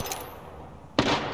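Gunfire in Apex Legends: a sharp shot at the start, a quiet gap, then a loud burst of shooting breaking in near the end, close and with no voices.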